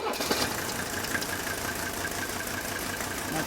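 An idling car engine with a steady, continuous mid-range drone and a faint uneven throb, running alone at moderate level throughout.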